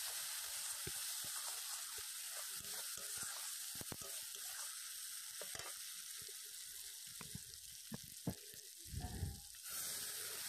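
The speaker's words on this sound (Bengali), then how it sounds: "এই চামচে 2 চামচ লঙ্কা গুঁড়ো, দিয়ে মশলাটাকে ভালোভাবে কিছু সময় কষিয়ে নেব" Spice paste with chili powder fries in a pan with a steady, close sizzle and scattered scrapes and clicks of stirring throughout, plus a louder bubbling burst near the end.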